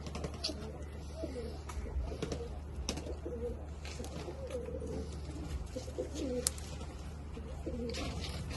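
Pigeons cooing nearby in a pigeon loft, repeated soft low burbling coos throughout, with scattered small clicks and rustles, moderately faint.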